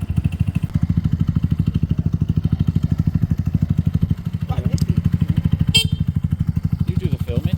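Motorcycle engine running steadily nearby during a test ride, a loud, fast, even thumping beat from start to finish while people talk briefly over it.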